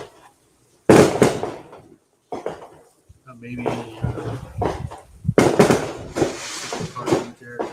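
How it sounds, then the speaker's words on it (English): New Year's fireworks bang outside in loud, sharp bursts and crackling volleys, some clustered together and some spaced apart, with a person talking indoors between and over the blasts. "I don't know if you can hear the fireworks going off."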